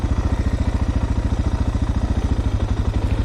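A motorcycle descending a steep downhill with the ignition killed, engine braking in gear: a loud, close, rapid rhythmic thumping pulse that holds steady throughout.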